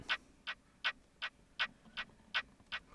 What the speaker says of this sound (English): Sounds like a clock